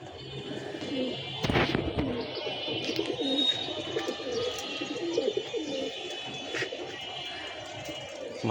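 Young pigeons coo and flutter near their loft, with soft cooing, chirps and a few sharp bursts of wing flapping, moderately close, over a low steady background.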